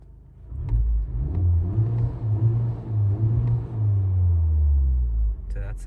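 Honda Civic Type R, 10th generation, driving in comfort mode: a steady low engine drone and road rumble rising and easing over several seconds, with a voice speaking over it.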